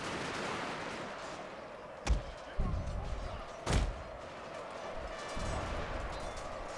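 Musket volley fire in Total War: Shogun 2 during a Boshin War battle: two sharp, loud gunshot cracks about a second and a half apart, with thumps between them, over a steady rumble of battle ambience.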